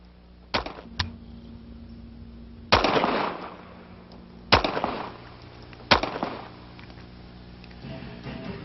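An HK P7 pistol fires four or five separate sharp shots with uneven gaps between them, each one loud and close and followed by a short decay, over a steady low background hum.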